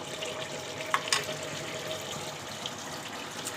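Water poured off bottle gourd cooked with beef, a soft steady trickle and splash with a couple of brief clanks from the pot, quiet and without talk.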